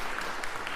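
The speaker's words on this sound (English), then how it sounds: "Yes, we could clap for them." A church congregation claps for a couple marking 65 years of marriage during a Sunday worship service, a brief, even patter of applause that is fairly faint and steady throughout.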